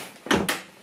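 An indoor door swings shut with two quick, close thuds in rapid succession, followed by quiet room tone.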